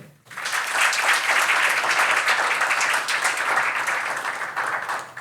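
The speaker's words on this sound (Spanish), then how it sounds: "Le damos un fuerte aplauso también." Audience at a conference on sustainable finance in Chile bursts into loud, sustained applause that starts abruptly and continues evenly throughout, with no talking over it.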